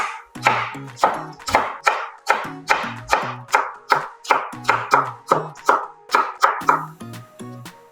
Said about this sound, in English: We just slice the carrots. And julienne the carrots.